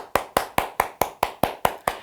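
A lone pair of hands claps nine times in a steady, even rhythm, each clap sharp and close, as a laughter-therapy instructor leads a round of applause for a strong mother.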